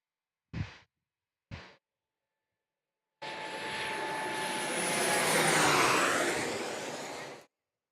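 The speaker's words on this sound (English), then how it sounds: "This looks like a Pilatus landing." A Pilatus aircraft lands at San Diego airport, its engine rising into a loud, broad whooshing roar that swells and fades over about four seconds, after two brief knocks.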